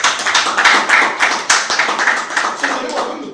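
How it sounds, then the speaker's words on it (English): Audience applause for a speaker at an emergency management lecture, a loud, steady burst of many hands clapping close by that fades slightly toward the end, with some talk underneath. "I think we need to give him a round of applause."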